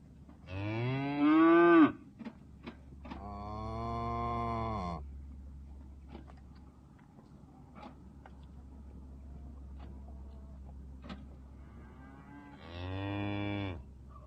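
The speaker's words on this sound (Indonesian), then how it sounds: "Saat subuh, putri dan menantu Cupo menunggang kuda dan menggiring ternak ke Simucu." Cattle driven by horse riders at dawn in the Tibetan mountains moo loudly in several long, drawn-out calls, one close and strained, with quiet gaps and faint ticks and shuffles between them.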